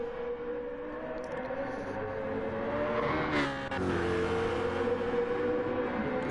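A BMW race car engine screams along the straight in a racing video game, holding a steady high whine that shifts briefly midway as another car draws close, loud and continuous with no talking.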